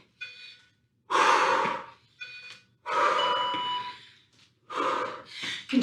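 Heavy, forceful breathing during a cardio workout with squats and front kicks, several loud close gasping breaths in an uneven rhythm with short pauses between them.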